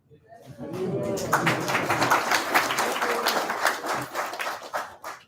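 A lecture audience bursts into applause, a dense patter of many hands that swells in quickly, holds steady for several seconds and then tapers off.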